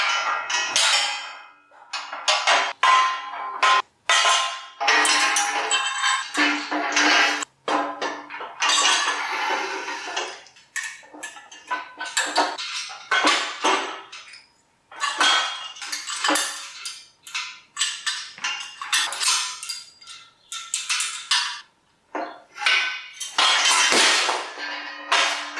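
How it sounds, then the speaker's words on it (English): Heavy metal press apron and arbor plates on a Harbor Freight 20-ton floor shop press, being set in place with repeated loud clanks, clinks and scraping metal knocks in an irregular run, close by and with no talk. "let's get the big press apron on and the arbor plates."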